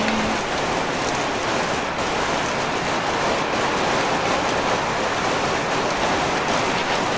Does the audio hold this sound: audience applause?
no